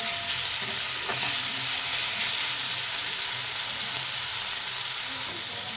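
Onions frying in a pan until reddish make a steady, dense sizzle and hiss that holds at an even level throughout, with faint stirring movement underneath.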